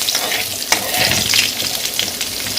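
Green chili tempering in hot oil, a loud, dense frying hiss with bursts of spattering and stirring, close up and continuous.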